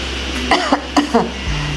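A short burst of four quick coughs close by, sharp and rhythmic, followed by a brief low rumble.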